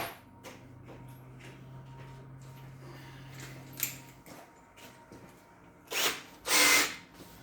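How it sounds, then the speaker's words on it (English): A die grinder on an old Ford Fairlane steering intermediate shaft rebuild, a low steady whir under workshop clatter that stops partway, then two loud bursts of high grinding close by. "Got 4 of these die grinders, only one of them's any good"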